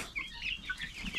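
Layer (egg-laying breed) chicks chirping in a steady stream of thin, high peeps that overlap one another, close and moderately loud, with no talking.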